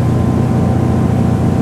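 Princess V40 motorboat engine pushed to about 3,100 rpm at roughly 25 knots, a loud, steady low drone heard close on board with no talk over it.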